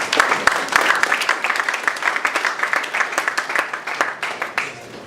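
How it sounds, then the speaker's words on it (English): Audience applause at an energy-sector panel discussion, a dense steady patter of many hands clapping that carries on for several seconds at even loudness, with no talking over it. "Please, a round of applause."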